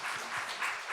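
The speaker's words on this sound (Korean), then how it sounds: "우리 박수로 환영하겠습니다." A church congregation applauds together, a brief, soft, steady wash of many hands clapping heard from a distance.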